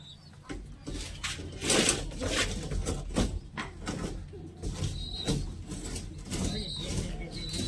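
Pigeons in a home loft flutter and shuffle close by, with soft wing flaps and scattered bird sounds over a busy, rustling background, while people talk throughout.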